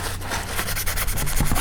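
Cloth rubbing over the disassembled parts of a Benchmade AFCK folding knife during cleaning, a close, steady soft scrubbing with brief knocks of parts being handled.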